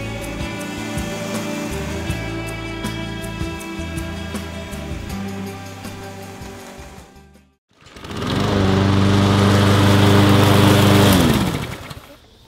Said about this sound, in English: When you cut your grass, make sure you go in even patterns and lines.